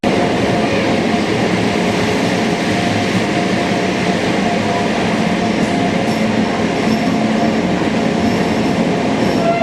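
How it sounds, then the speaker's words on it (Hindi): Bhopal Express train pulling out of a station, heard as a loud, steady rail rumble with a constant broadband roar from wheels and carriages that continues throughout without pause. "तो भोपाल एक्सप्रेस का जो है डिपार्चर हो चुका है यहाँ से।"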